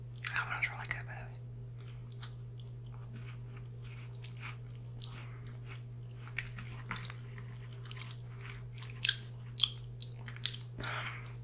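Quiet cookie chewing during a blind brand taste test, soft crunchy bites and mouth sounds scattered across a near-silent background with a steady low hum, a few louder crunches near the end.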